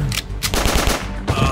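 Rapid burst of gunfire in the Roblox game Brookhaven, several sharp shots in quick succession, loud and close, with a voice faintly mixed in.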